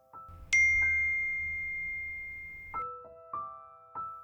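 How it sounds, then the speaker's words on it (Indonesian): A series of clear electronic phone notification chimes ring out, a few separate tones with ringing tails, in an otherwise quiet room. "Mendadak, bunyi notifikasi masuk."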